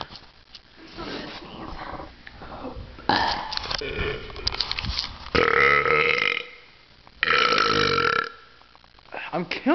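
A series of loud, drawn-out burps from young people in a burping contest, several long croaking belches separated by short gaps, with talking in between.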